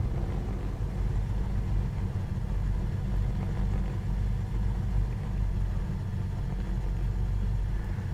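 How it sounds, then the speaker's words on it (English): Both aircraft engines running in the P3D flight simulator, a steady, loud low-pitched drone that holds evenly throughout with no talking. "both engines are running."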